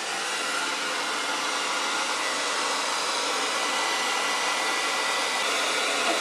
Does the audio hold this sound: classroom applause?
no